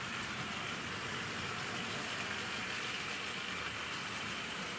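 A Tri-ang Wrenn 8F die-cast model freight locomotive with a Ringfield motor runs around a test track, producing a faint, continuous whirring hum with no change in rhythm and no one talking.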